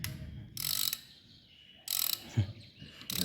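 A socket ratchet clicks in two short bursts while bolts are tightened in a crisscross pattern on a Nissan 1400 engine, close and fairly quiet, with a soft knock between bursts.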